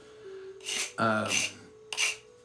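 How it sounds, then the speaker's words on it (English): A drywall rasp scraped in three short strokes, each a harsh hissing rasp lasting a fraction of a second, close up, with brief voiced sounds between strokes. "I've had people say it was like a drywall rasp."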